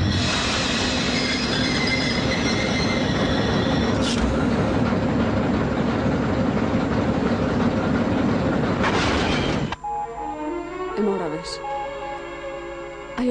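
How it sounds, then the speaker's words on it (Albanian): A train rumbles loudly along the rails with squealing wheels and clattering cars, then the roar cuts abruptly to a quieter scene, with voices heard around it. "Treno usta, përpara ke një tren."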